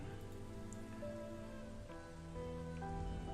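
Steady rain falls across a muddy, stony causeway as a continuous even patter, with sustained tonal music layered over it and no voices.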